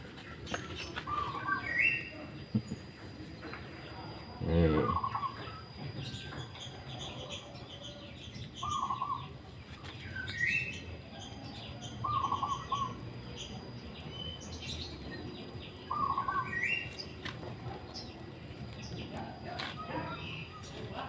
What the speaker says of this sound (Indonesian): Ditemani dengan suara burung, burung perkutut, burung nuri, burung lahut, dan hewan-hewan lain.